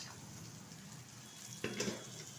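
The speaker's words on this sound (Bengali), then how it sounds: "দিয়ে দিচ্ছি ভেজে রাখা রুই মাছ" Pre-fried rohu fish pieces dropped into a pan of curry, a soft steady sizzle and bubbling with a brief louder splash and clatter as the fish goes in.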